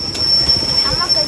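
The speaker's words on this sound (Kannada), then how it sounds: "ಈಗ ನಾವು ಟ್ರೈನ್ ಹತ್ತಿದ್ದೀವಿ" Inside a train from Bengaluru to Tirumala, a steady rumble and low wheel noise run throughout with a thin high whine, with a faint murmur of voices mixed in.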